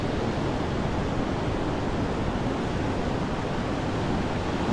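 Rushing whitewater rapids of the Niagara River beside the falls form a loud, steady, broadband roar that holds constant without any pause.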